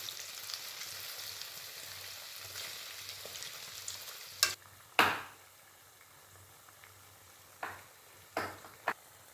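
Urad dal bondas deep-frying in hot oil give a soft, steady, faint sizzle. A few sharp clinks of a utensil break in now and then, with no voices.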